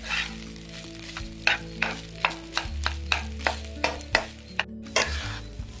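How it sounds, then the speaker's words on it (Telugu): Veg schezwan fried rice tossed in a pan over a high flame: a steady close sizzle broken by regular scraping and clattering strokes of the spatula, with no talking. "హై ఫ్లేమ్ మీద పెట్టుకుని బాగా టాస్ చేసుకుంటూ ఉండండి"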